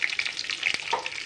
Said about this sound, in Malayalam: നെയ്യിലേക്ക് അണ്ടിപ്പരിപ്പ് ഇട്ട് കൊടുക്കാം കേട്ടോ.